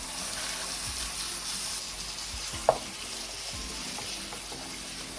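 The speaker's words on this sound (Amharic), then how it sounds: "ካሮቴ ትንሽ ጠበስ ብሏል ስጋዬን እጨምራለሁኝ" Minced meat frying with carrots, garlic and ginger as a lasagna base, a steady close sizzle with faint stirring clicks and one sharp clink of a utensil against the pan partway through.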